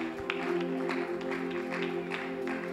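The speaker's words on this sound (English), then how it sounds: "Why don't you bless the Lord with a clap offering while you get seated?" Church congregation clapping together during a worship service, a steady wash of hand claps with a sustained organ or keyboard chord underneath.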